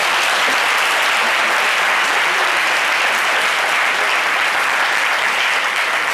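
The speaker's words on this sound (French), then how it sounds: "Merci de les applaudir très fort" Studio audience applause on a television talk show, dense sustained clapping from a crowd, loud and even from start to finish.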